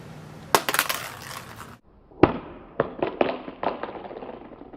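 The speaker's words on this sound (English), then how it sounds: "iPhone 6 Plus side drop test in 3, 2, 1." An iPhone 6 Plus dropped on its side in a drop test lands with a sharp, loud crack, followed by a run of close clattering bounces and small knocks on a hard surface, with no talking.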